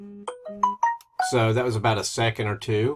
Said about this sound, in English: That sound you just heard, I received a test message right there.